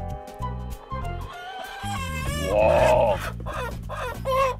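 Chickens cluck and squawk agitatedly close by as a bird is grabbed in a rural yard, rising into a loud flurry of alarmed calls over a few seconds, with a brief exclamation from a person.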